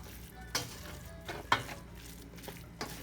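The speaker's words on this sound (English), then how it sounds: "mix it well until all the glutinous rice is coated with the sugar" Glutinous rice and sugar are stirred together in a pot for Filipino suman or biko, giving soft sticky scraping with a few light clinks of the utensil against the pan, quiet and close.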